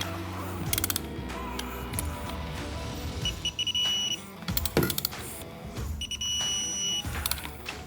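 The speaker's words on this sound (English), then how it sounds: "we're gonna go ahead and torque these two bolts to 20 foot-pounds." A hand ratchet torquing button head bolts on a Ram 2500 Cummins diesel, close, loud metallic clicking in several quick bursts separated by short pauses, with no talk.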